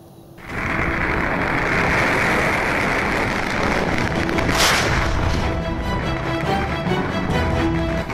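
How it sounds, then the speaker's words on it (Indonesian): Tens of thousands of firecrackers detonated by a police bomb disposal team in East Java burst out in a dense, continuous barrage, crackling loudly and relentlessly for several seconds with no pause between the explosions. "Puluhan ribu petasan diledakkan tim Jihanda Gegana Satbrimob Polda Jawa Timur"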